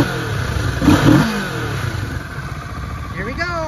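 A 2018 Kawasaki Ninja 650 KRT ABS sport bike revs close by, the engine rising and falling in a few throttle blips over a steady idle.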